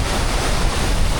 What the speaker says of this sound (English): Oh, it's windy here.